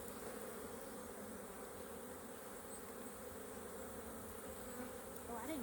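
A hive of honeybees, opened for inspection, hums in a close, unbroken buzzing that holds at an even level throughout, swelling slightly at the very end.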